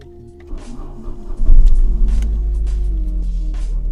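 An Opel Calibra engine cranks briefly and catches, then settles into a steady, close, low-pitched idle rumble with no talking.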